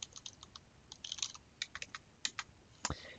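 Quiet typing of a search query on a computer keyboard, irregular soft key clicks in small clusters, close and alone.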